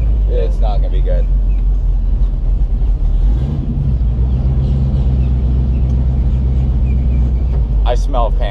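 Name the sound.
Chevrolet Camaro engine driving at a car show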